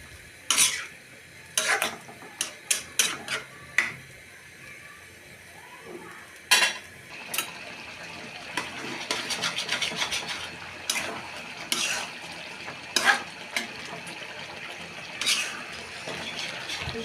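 Hand-mixed spice masala is stirred in a pan, giving a scatter of sharp scraping and clinking knocks of utensil against metal. The strokes come in irregular bursts over a faint low sizzle, fairly close, with no talking.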